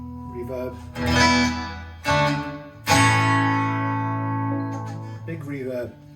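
Yamaha Silent Guitar strummed through a reverb effect, a few ringing chords with sustained tails that fade between strikes, played alone and fairly close.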